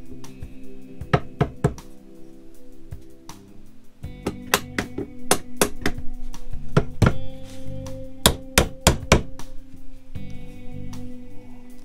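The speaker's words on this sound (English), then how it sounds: "this part's a rubber mallet, this part's hard plastic" A rubber mallet strikes hard plastic parts during a DIY RV interior renovation, giving a run of sharp, hollow knocks in uneven clusters, close and fairly loud.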